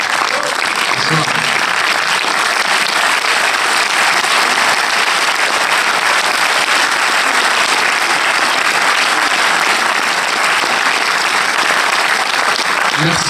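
A full cinema audience at a film premiere applauds steadily and loudly, a dense, unbroken wash of clapping that keeps going throughout.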